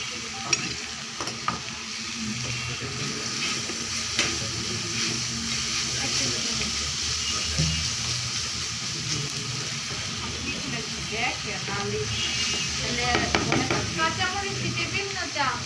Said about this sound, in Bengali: রসুনটা একটু ভালো করে ভেজে নিলাম